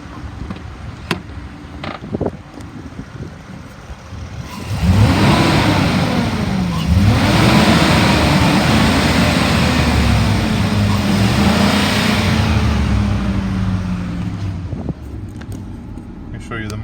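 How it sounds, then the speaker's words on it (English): A 2011 Ford F-350 XL utility truck engine, automatic transmission, idles and then revs up loudly, the pitch rising and falling through a couple of sustained revs before settling back toward idle, close by, with speech during the idle. "I'm gonna rev it up so you can hear it"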